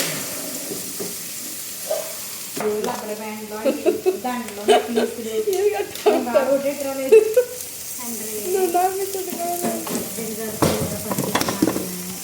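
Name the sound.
green chilies frying in hot oil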